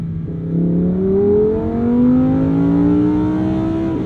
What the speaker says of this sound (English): So take it all the way out to red line. Hear the beautiful song of that V10.